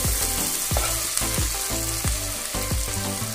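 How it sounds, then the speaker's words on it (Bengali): Spice paste for a Bengali-style katla fish head curry frying in a pan over a low flame, a steady close sizzle broken by a stirring scrape roughly every half second, with no voices. "লো ফ্লেমে রেখে মশলাটাকে কষিয়ে নিচ্ছি।"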